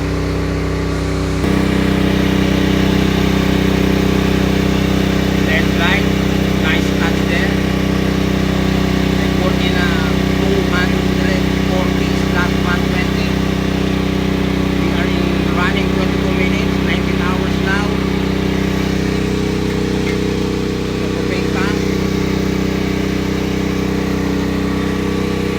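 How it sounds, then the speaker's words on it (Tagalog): A Genmax GM11000iET inverter generator runs with a steady, loud mid-pitched motor hum that holds throughout, with light clicks and a voice talking over it. "I hear the humming of the motor."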